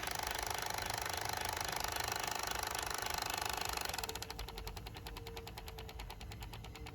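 A Fostex X-12 cassette machine's mechanism runs with a steady, close mechanical rattling whir that shifts partway through into a faster, rhythmic ticking pulse.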